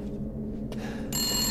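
A telephone rings in the horror video game Resident Evil Village, a bright electronic ring that starts near the end and rises over a low ambient rumble.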